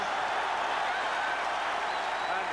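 Welsh rugby crowd in a large stadium roars and applauds after a try for Wales, a broad sustained wash of cheering and clapping heard steadily at a distance.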